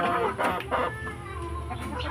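Two hens cluck close by in short bursts of varied calls inside a large coop, with farmyard background noise throughout.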